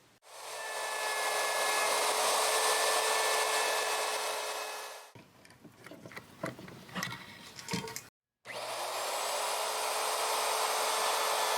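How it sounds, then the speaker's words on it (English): Wood trim for a piece of homemade furniture being shaped with a router: a loud, steady high-pitched motor whine, a stretch of clattering handling noise and a pause, then the whine starts again. "I'm just going to go ahead and route this up, and I should have a consistent stop right here"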